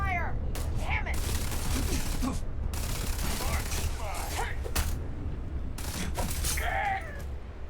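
Gunfire crackles in bursts in the Starfield video game across a series of catwalks, with mechanical clanks and creaks mixed in and a voice talking over the action.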